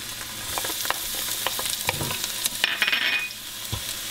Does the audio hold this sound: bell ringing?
no